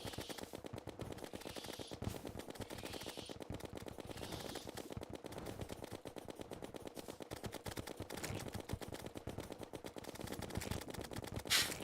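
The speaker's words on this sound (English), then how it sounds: "Now we're getting some good shots on her." Rapid continuous gunfire from a Terraria boss fight, dense rhythmic bursts of shots running nonstop at moderate level, with no talking.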